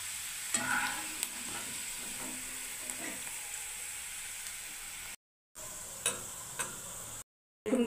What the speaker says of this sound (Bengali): বাদামটাকে আমি এর মধ্যে ভেজে নিচ্ছি